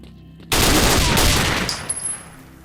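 A loud, sustained burst of automatic rifle fire from the video game Hibernation Evil starts abruptly and rattles on for about a second before tapering into fading echoes and a few scattered sounds.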